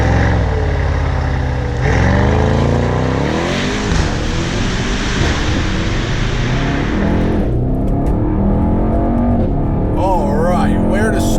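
A 2018 Mercedes-AMG E63S wagon in Sport Plus mode pulls hard with a loud, continuous engine roar that climbs through the revs, breaks at a gear change and climbs again before easing off near the end, with voices talking over it.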